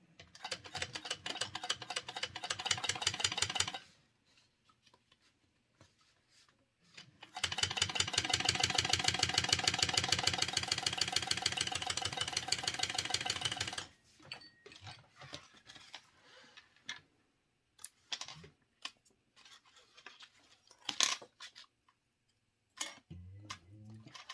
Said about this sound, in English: And now we're going to top stitch right here.